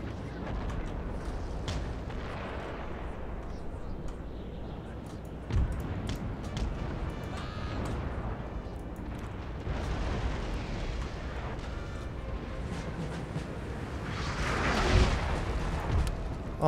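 Cannon artillery fire in a Napoleon: Total War battle, distant booms and rumbling blasts scattered across a continuous battlefield din, with a heavier burst near the end.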